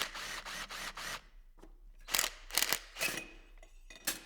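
Motorcycle front fork base bolt being removed with a 12mm extended Allen key, heard as a series of close, sharp mechanical ratcheting bursts separated by brief pauses, with no talking.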